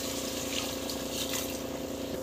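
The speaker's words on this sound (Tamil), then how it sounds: "ஸோ தண்ணி வந்து தேவையான அளவுக்கு வந்து தண்ணி விட்டுக்கோங்க." Water runs steadily into a cooking pan while rice is being prepared, a continuous close rushing pour with no talk over it.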